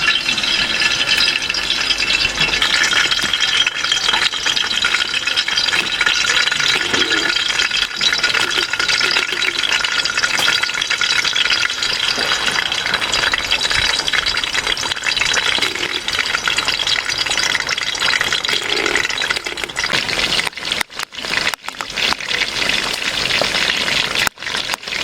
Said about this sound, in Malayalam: നമുക്ക് ചിക്കൻ എണ്ണയിലേക്ക് ഇട്ട് കൊടുക്കാം.